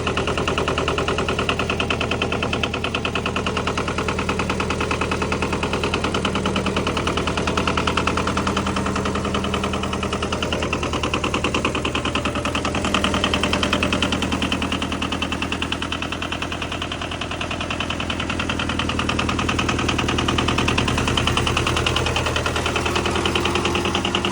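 An old tractor engine idles steadily and loudly for the whole stretch, a constant low rumble with a fast even chug and no talking.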